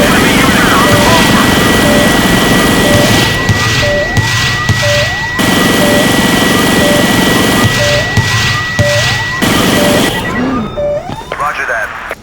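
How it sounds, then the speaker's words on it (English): Enemy helicopter flying in Battlefield 2, a loud continuous rotor and engine roar that dominates throughout, with radio voice chatter breaking in and brief beeping tones. "Enemy helicopter spotted. Hostile chopper over."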